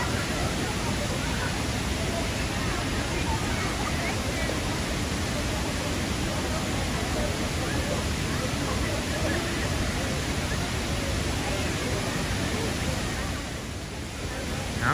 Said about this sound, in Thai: น้ำใสมากเลยนะครับน้ำตกกวางซีนะครับผม